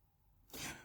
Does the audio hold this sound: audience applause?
no